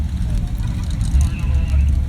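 Low, continuous exhaust roar from a 1972 Corvette accelerating in a rolling exhaust contest, swelling slightly toward the end beneath a public-address voice and crowd babble.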